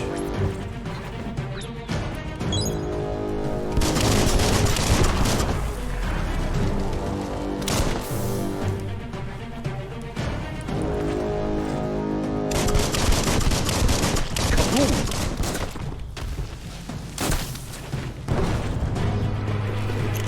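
Gunfire in the action game Biomutant: dense repeated bursts of shots, crashes and booms over a continuous loud game soundtrack, with brief gaps between volleys and no clear talk.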